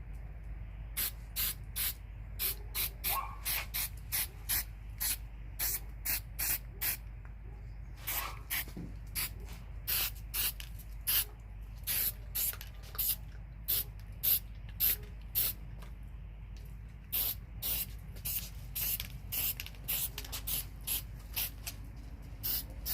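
Short bursts of aerosol varnish spray hiss close by onto a small baseball ring holder, dozens of quick pumps in an uneven rhythm, each a sharp airy spurt over a quiet background.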